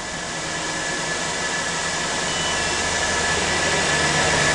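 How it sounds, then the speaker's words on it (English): A spin rinse dryer chamber whirs with a steady, loud broadband rush and faint tonal hum as it ramps down toward a 500 RPM set point, the noise continuous and unchanging throughout. "The second chamber is also now ramping down to the lower 500 RPM set point and is running great"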